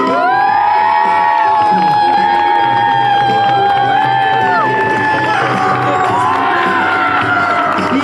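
An audience at a cosplay contest results ceremony, part of the Yggdrasil festival, cheers, whoops and shouts loudly for the jury, with children's shrill cries rising through a dense, continuous crowd roar.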